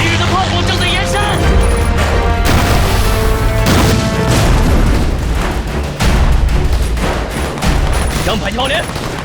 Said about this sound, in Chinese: 敌人的炮火正在延伸。